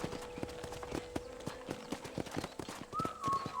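Steady clip-clop of horse hooves at a walking pace in Red Dead Redemption on Nintendo Switch, with a brief high, whinny-like tone rising near the end.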